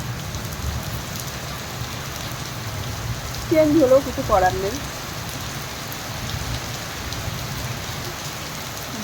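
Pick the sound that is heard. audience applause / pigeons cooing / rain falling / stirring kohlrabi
rain falling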